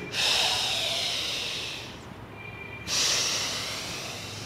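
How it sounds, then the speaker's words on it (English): A woman breathes heavily in two long, forceful, hissing breaths separated by a short quiet gap, close to the microphone with no talk. "now she is breathing, I think she is breathing"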